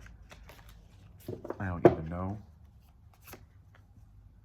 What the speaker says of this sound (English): I'm gonna shuffle. I'm gonna cut